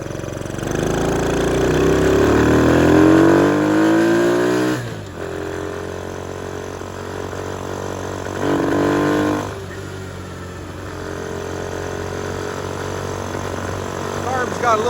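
A Honda CT70 K3 motorcycle engine revs and runs close by with a carburettor hesitation, rising and falling in pitch, dropping back to idle twice, while a voice talks over it.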